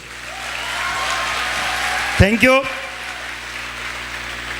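An audience applauds loudly at a stage celebration event, with steady crowd clapping filling the clip and a brief spoken voice cutting in near the middle.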